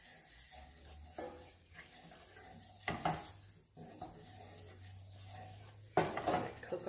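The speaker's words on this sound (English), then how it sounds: "Make ourselves a little roux. Just move it around." A utensil scrapes and stirs a flour roux in a pan for a jalapeno cream sauce, with soft sizzling under a few sharper clanks against the pan, close and fairly quiet.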